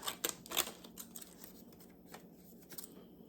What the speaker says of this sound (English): I'm also going to just use my decorative scissors, and I'm just going to cut the sides.